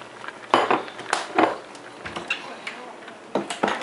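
Noodle chicken soup with sesame oil being mixed with a utensil, giving scattered clinks and scrapes against the pot or bowl in short irregular bursts, fairly close.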